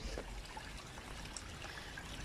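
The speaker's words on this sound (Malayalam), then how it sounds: "ദേ വെള്ളമൊക്കെ ഒഴുകി വെള്ളം അങ്ങോട്ടും ഇങ്ങോട്ടും ഒക്കെ" Water trickles and streams steadily outdoors at a home in the UK, a soft, continuous flowing wash that stays even and moderately faint throughout.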